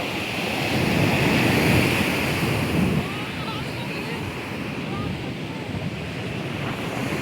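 Ocean waves at high tide on Puri beach, a continuous loud wash of surf mixed with gusting wind buffeting the microphone.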